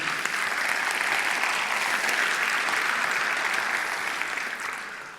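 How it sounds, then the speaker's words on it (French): An audience at a season presentation at the Cratère theatre applauds the musicians with a dense, sustained wash of clapping that holds steady and then tapers off toward the end. "On peut aussi les applaudir."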